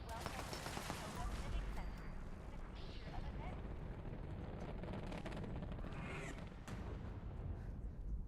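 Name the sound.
gunfire from enemies in video game Fallout 76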